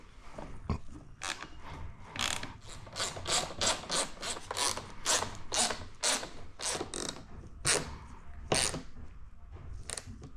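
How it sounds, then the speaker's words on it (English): A ratchet tightens a side panel bolt on an Aprilia Tuono motorcycle, with a long run of quick, close, rhythmic clicking strokes and brief pauses between bursts, with no talking. "I'm just going to put the side panels back on and torque this guy up"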